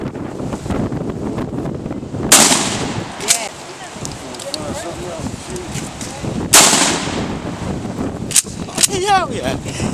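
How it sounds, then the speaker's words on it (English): Two loud 12 gauge shotgun blasts ring out outdoors several seconds apart, each a sharp crack with a rolling tail, over steady wind buffeting the microphone, with a lighter pop near the end and people talking throughout. "That's a 12 gauge shotgun."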